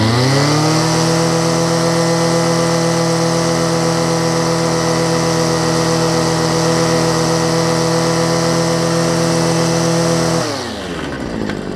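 Homelite ST275 string trimmer two-stroke engine with a freshly installed carburetor kit, running at a high, steady buzzing rev close by for about ten seconds before dropping back toward idle.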